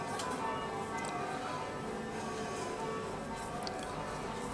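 Bells ringing continuously at a steady level, with dense overlapping chimes and strikes sustained through a background wash, heard alone with no talking.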